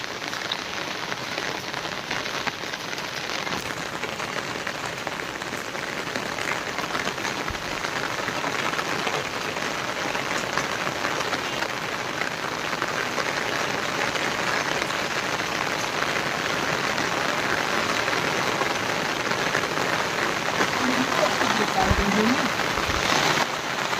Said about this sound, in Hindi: तो ये जो बारिश है ये तो रुकने का बिल्कुल भी कहो कि मतलब नाम ही नहीं ले रही है।